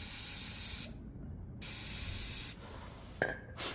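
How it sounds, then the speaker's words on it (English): Brake cleaner aerosol hisses out in two long sprays and then a few short bursts, close and fairly loud, with brief gaps of near quiet between them in a motorcycle workshop setting. "That's just brake cleaner"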